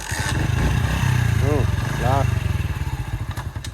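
A motorcycle engine runs steadily at close range while a rider takes it out with two passengers aboard, a throbbing mid-pitched drone with a faster rhythmic putter near the end, and voices talking over it.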